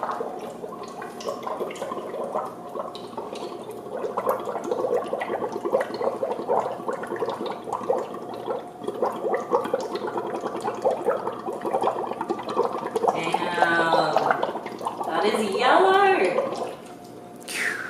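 Bubbling from someone blowing through a straw into bottled drinking water, a steady stream of close gurgles and bursting bubbles lasting many seconds and growing slightly stronger before stopping.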